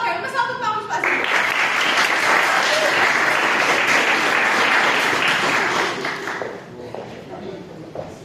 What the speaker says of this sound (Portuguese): uma salva de palmas para a cima